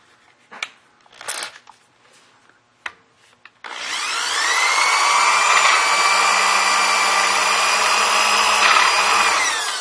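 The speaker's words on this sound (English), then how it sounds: "I'm going to grab this 3/8 drill bit, and I'm going to punch a 3/8 hole" A power drill with a dull bit bores a 3/8 inch hole, a loud steady whine with slowly shifting pitch that runs for several seconds after a few short knocks and handling sounds.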